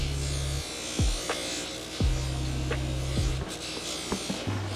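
A buffing wheel works a hand-sanded Damascus steel piece, a steady electric motor hum with low droning tones that drop and shift each time the piece is pressed to the wheel, close and fairly loud.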